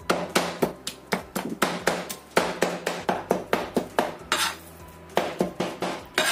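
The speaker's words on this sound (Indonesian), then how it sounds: "Setelah kita potong-potong seperti ini, kemudian kita cincang." Meat being minced with a knife on a cutting board, rapid loud rhythmic chopping thuds that repeat steadily, pause briefly, then resume close by.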